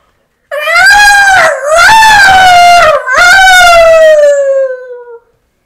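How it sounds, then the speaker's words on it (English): A lone coyote lets out a long nighttime howl in three rising and falling drawn-out wails, loud and close, with short breaks between them and the last note sliding down before it fades. "The coyote starts letting out its nighttime howl."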